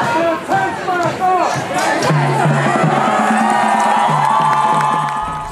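Loud crowd at a street protest cheering and shouting together, dense overlapping voices with chanting-like calls rising throughout, close and continuous.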